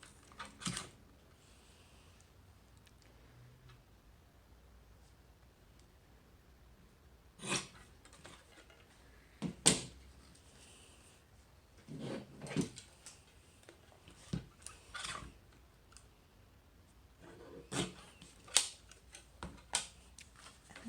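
Card stock for a stamping craft is trimmed with sharp, separate cutting snaps and clicks, spaced irregularly with quiet gaps between them.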